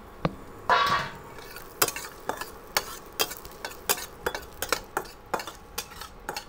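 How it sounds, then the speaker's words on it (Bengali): Cashews and raisins frying in ghee in a separate kadai, with a utensil stirring and tapping against the pan in a series of sharp, irregular clicks over a faint sizzle. "এবার কাজু কিশমিশটা একটু ভেজে নেব।"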